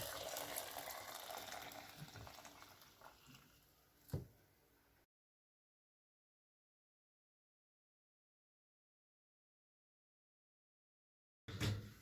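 Boiled milk poured over roz moammar (baked rice) in a kitchen: a steady, fairly close liquid rush and bubbling for about five seconds that stops abruptly, followed by silence and a brief final splash.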